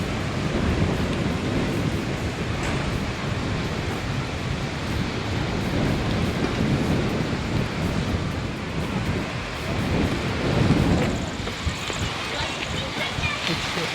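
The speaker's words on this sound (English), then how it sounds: "It started raining, heavy rain." Dense, roaring downpour of heavy rain with strong wind buffeting at the Shivasamudra waterfalls, a constant broadband wash throughout, with a voice heard faintly under the noise.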